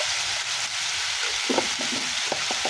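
Rohu fish and potato fry with spices in a pan, under a steady loud sizzle and broken by a run of short scraping stirs toward the end.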